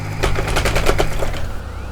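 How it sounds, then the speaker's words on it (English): A steering wheel controller buzzes and rattles hard with force feedback while BeamNG.drive tows a heavy load, giving a loud, rapid mechanical chatter that fades out after about a second and a half. "This shakes my wheel so hard, like, listen."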